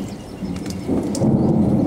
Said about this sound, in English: Absolutely incredible thunderstorm footage.